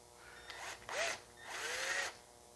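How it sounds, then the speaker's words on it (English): A screw gun drives screws while an Endeavor 1 light kit is installed: two short, close whirring bursts whose pitch rises as each screw runs in, with a brief quiet gap between them. "Screw gun's way too strong right now."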